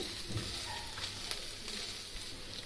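Cluster beans fry with spice powder is stirred in a pan, giving a continuous soft sizzle with faint scraping and a few light knocks.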